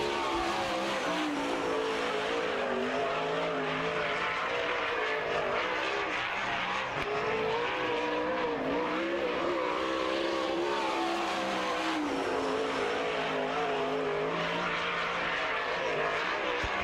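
Archer Motorsports number 1A sprint car from Texas City, Texas, lapping a dirt oval in qualifying at Lawrenceburg, Indiana, a continuous loud engine roar whose pitch swells and falls through each lap.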